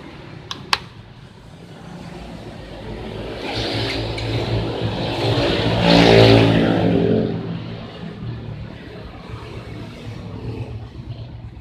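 A Yamaha Vega ZR motorcycle engine is started after two sharp clicks, catches and swells to a loud peak midway, then settles into a steady close idle without talk.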